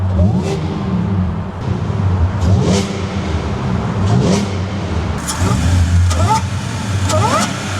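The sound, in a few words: Audi S4 wagon supercharged engine revving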